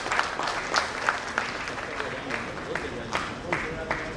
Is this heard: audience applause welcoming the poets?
yes